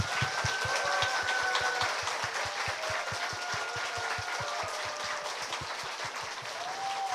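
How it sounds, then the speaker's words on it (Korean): Wedding guests applaud in unison to open a church wedding ceremony, a rhythmic, evenly paced clapping that keeps a steady beat for several seconds at a fairly loud, close level with no talk over it. "박수하겠습니다."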